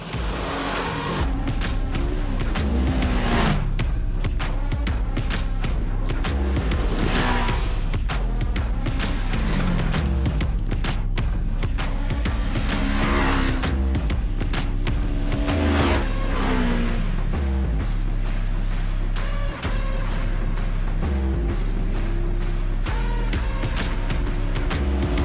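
A 2024 Polaris RZR XP 1000 side-by-side with a 1000-class engine roars loudly and continuously on a test ride, its engine repeatedly revving up and easing off as it accelerates, with no talking.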